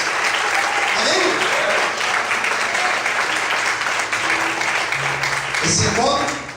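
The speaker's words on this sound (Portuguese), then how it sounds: "Mais forte as palmas." A church congregation claps louder, a thick steady roar of many hands applauding across the room, holding strong and easing slightly near the end.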